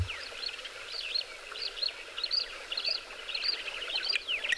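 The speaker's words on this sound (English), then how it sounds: "That's your blacksmith lapwing." Repeated sharp metallic calls of a blacksmith lapwing ring out at a steady pace over a quiet outdoor safari background at sunrise, fairly distant.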